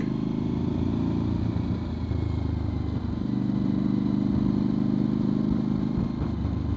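A 2013 Suzuki DR650 motorcycle with only 1,500 miles rides ahead on a dirt trail. Its engine makes a steady, loud, unbroken drone that lasts the whole time.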